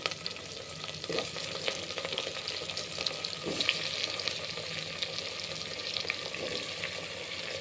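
Brinjal and radish sizzle and crackle in a hot pan close by, a dense continuous fry with scattered clicks of stirring.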